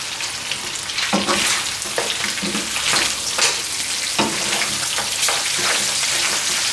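Beef fries in a wok with white pepper, a loud continuous sizzle under rhythmic scraping as the meat is mixed and tossed, with no voices.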